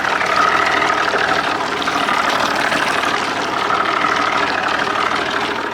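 Old outboard motor running steadily on a lake boat, a loud continuous engine drone with no breaks and no voices.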